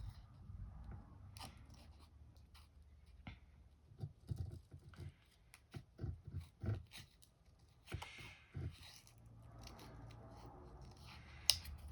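Scissors snipping around a cardstock heart shape for a pop-out Valentine card, trimming close to the edges: a series of quiet, irregular cuts and paper rustles at close range over low background hum.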